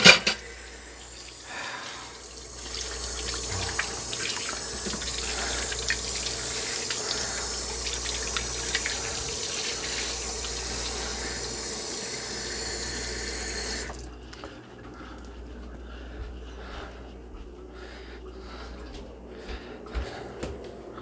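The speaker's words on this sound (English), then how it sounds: "My hands are just a mess right now, so I'm gonna rinse them off real quick." Hands rinsed under a running tap during a honey harvest: a steady, close rush of water for about fourteen seconds that then cuts off, leaving quieter handling noises.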